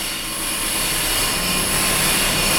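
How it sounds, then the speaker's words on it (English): A Honda Civic engine runs with the A/C compressor engaged, a loud steady broadband whir and hum filling the whole stretch with a slight swell in level, no talk. "Yeah, the compressor is kicking on."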